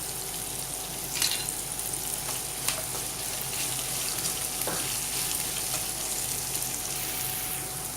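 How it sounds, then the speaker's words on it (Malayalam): Onions sauté with a little salt in a pan for South Indian tomato rice, giving a soft, steady sizzle with a few sharp scrapes and clicks of stirring, fairly faint and without talking. "നമുക്കൊന്ന് വഴറ്റിയെടുക്കാം. ഒരുപാട് വഴന്ന് വരണ്ട, ഒരു പകുതി വഴന്ന് വന്നാൽ മതിയാവും."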